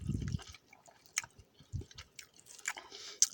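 Someone eats rubbery MRE brown rice off a spoon, with soft, close, wet chewing and squishing bursts, a few faint clicks and drips, and no talking.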